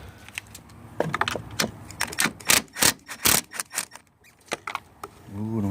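Metallic clicks, ratchet-like ticks and rattles ring out close up as a bolt is worked loose near the fuse box of a Jeep XJ, with a voice speaking briefly at the end.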